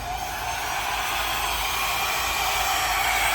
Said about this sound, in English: Now get my blower out.